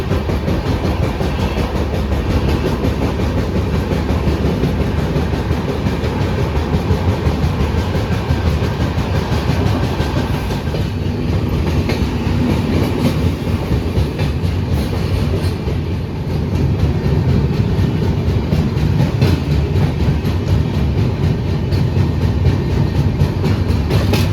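Kamrup Express passenger train running on rails, heard from on board as a loud, continuous rumble with rhythmic wheel clatter and rattling carriages throughout, no talk.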